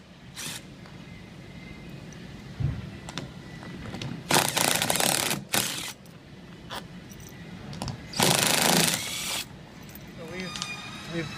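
Wrench work loosening a fitting on a water tank during a unit replacement, heard as a few short broadband rasping and scraping bursts separated by quieter stretches, close up with faint background noise.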